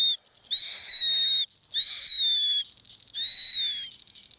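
An injured Mississippi kite hawk recovering from a wing injury gives three clear, high whistled calls, each about a second long with a slight downward slur, separated by short silent pauses and heard close up.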